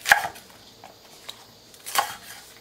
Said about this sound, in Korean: 큼직큼직하게 썰어주세요.